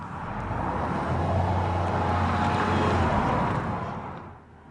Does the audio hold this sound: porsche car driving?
yes